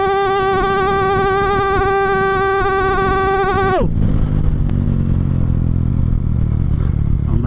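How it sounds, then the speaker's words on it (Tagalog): A motorcycle engine holds a steady, loud note, then drops sharply as the rider engine-brakes, leaving a low, rumbling, gravelly decel sound that carries on to the end. "Engine brake ulit tayo."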